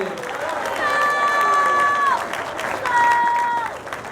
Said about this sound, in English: Go ahead, give a quick clap.